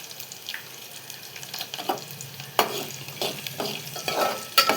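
Peanuts fry with green chillies in a pan for upma, giving a crackling sizzle broken by several sharp scraping stirs of a spoon against the pan, all close and without talk.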